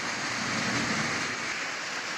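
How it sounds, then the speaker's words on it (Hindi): Rain falling during a storm, a broad steady wash of drops outdoors, moderately loud and continuous, with no voices. "तूफान के साथ साथ बारिश भी फ्री है, बारिश भी हो रहा है।"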